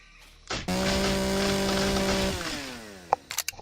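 Chainsaw cutting trees in the game Empyrion: a loud, sustained buzzing motor that starts abruptly, holds steady for about two seconds, then winds down with a falling pitch, followed by a few sharp impacts.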